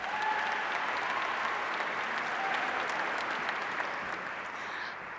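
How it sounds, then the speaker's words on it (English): Sustained audience applause for Governor Jay Inslee at Tacoma's Dr. MLK Jr. celebration, a dense wash of clapping from a large room that holds steady and eases off slightly at the end. "Let's give him another round of applause."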